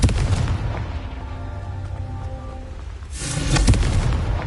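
A Confringo fire-spell blast from Hogwarts Legacy on PS5 booms loudly at the start, followed by a rumbling, crackling tail with a faint tonal hum, then a second heavy explosive burst hits near the end, no voices present.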